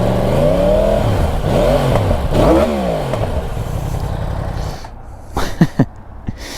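A 2020 Yamaha R1 sport motorcycle revs up and down several times close by with a rising and falling exhaust note, then settles to idle with a few sharp blips.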